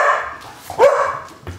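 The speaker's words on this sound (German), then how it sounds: "Wuff, wuff, wir werden gleich mal begrüßt." A dog greets a visitor with a few loud, close barks and yips in short bursts, with no voices.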